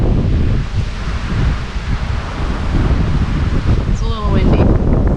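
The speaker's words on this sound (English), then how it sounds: "it's a little windy." Steady outdoor wind roars across the whole stretch as broadband rumble and hiss, with a brief high, fluttering sound near the end.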